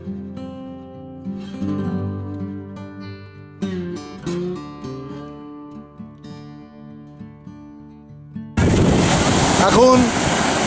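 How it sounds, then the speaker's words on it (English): Huge ocean waves break on an Antigua beach, a loud, broad roar of surf that bursts in only during the final two seconds, after a stretch of tonal music. "Huge waves today."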